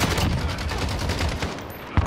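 Rapid light machine gun fire from Call of Duty: Modern Warfare, a dense sustained burst of shots running nearly the whole stretch, loud and close, ending with one sharp louder report.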